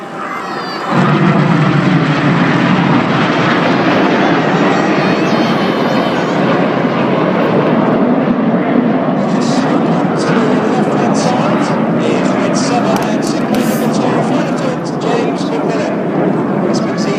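Red Arrows display jets perform over Jersey, a loud, continuous jet roar that swells in and holds steady overhead throughout, with a commentator speaking over the noise.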